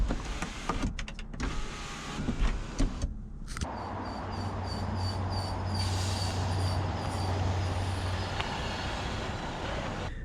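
A Mercedes-Benz S-Class W221 S350 sunroof motor runs with a steady electric whir inside the car, preceded by a few clicks and bumps, and keeps going for several seconds with nobody talking.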